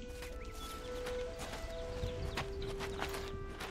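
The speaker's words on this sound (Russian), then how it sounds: "Лошадка." Horse hooves clopping in a steady walking rhythm in the video game Oblivion, fairly close and moderately loud, set against tonal game music and ambience, with no clear whinny standing out.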